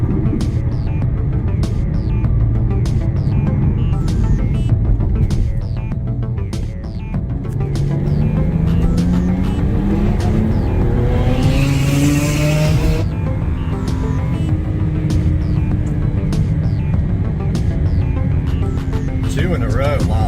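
A fast race car's engine drones steadily throughout, with rising and falling harmonic sweeps as it revs through gears, the sound continuous and fairly loud under people talking.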